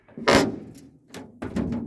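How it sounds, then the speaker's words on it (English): A 1965 Dodge D100 truck door with a refrigerator-style handle, worn from sitting for decades, opens with a loud mechanical clunk and rattle, followed by two further thuds and latch noises at close range. "now check out how you open this door. So you see this door handle, right? It opens like an old school refrigerator."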